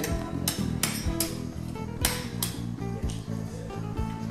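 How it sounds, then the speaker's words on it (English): Sharp metallic taps of a special hammer trimming mosaic tiles to shape at a Moroccan workshop, a close irregular series of about a dozen clinking strikes over a low steady background. "the fellow is working with a special hammer to trim different tiles"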